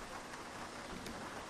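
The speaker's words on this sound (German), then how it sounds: "Oh, in Stuttgart regnet's." Steady, dense rain in the OMSI Bus Simulator game, set in Stuttgart, hisses evenly across the whole stretch with no pauses, a constant wash of drops with no voices over it.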